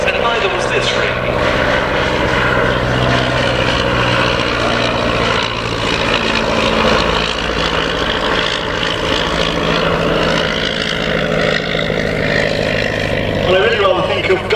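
A vintage de Havilland light aircraft flies over an air show, its engine drone steady and loud throughout, with a voice talking over it.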